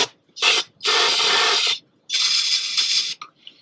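Brake cleaner is sprayed onto the engine of an abandoned 1929 GMC truck in close, loud hissing bursts: one short spurt, then two longer sustained blasts, with brief gaps and a faint rattle at the end.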